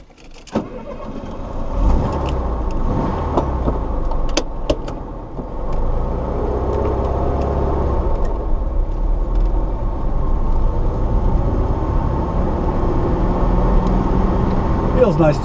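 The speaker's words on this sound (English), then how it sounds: "let's take this car for a drive." A 1973 VW Karmann Ghia engine turns over and settles into a steady running rumble, with road and mechanical noise continuing as the car drives.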